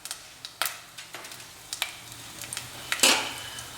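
Garam masala whole spices and a piece of dry ginger fry in a pressure cooker for chicken curry. A low sizzle runs beneath repeated sharp clinks and scrapes of a spoon stirring against the metal pot, close and without talk.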